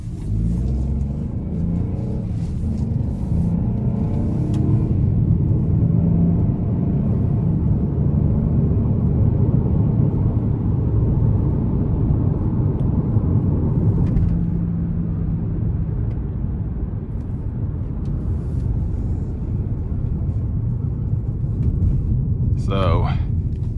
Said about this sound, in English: it's not bad in terms of the road noise so far